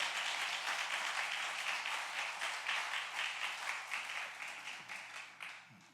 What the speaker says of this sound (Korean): 큰 박수 함성으로 환영합니다